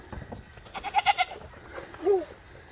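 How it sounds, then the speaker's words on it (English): Farm goats bleat in a few wavering calls, a cluster of short cries followed by one longer, louder bleat, moderately near outdoors. "those are our goats."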